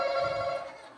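A telephone rings with a steady electronic trill that holds for about half a second and then fades, fairly loud and close, during a birthday party game.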